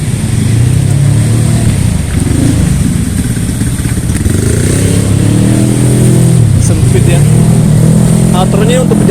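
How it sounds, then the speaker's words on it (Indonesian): A motorcycle engine revs nearby on a busy Jakarta street, rising and falling in short bursts over steady traffic noise, while someone talks over it. "Nah, ada motor genak."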